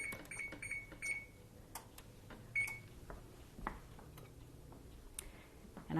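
An oven being set to 350 degrees in a home kitchen while baking a sugar cake: a string of faint, sharp electronic beeps and ticks from the control panel, spaced irregularly over quiet background.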